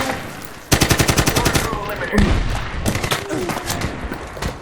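Rapid automatic gunfire from the 2010 video game Medal of Honor, in a Taliban airfield battle: a fast, close, loud burst of shots followed by more scattered shots and explosions.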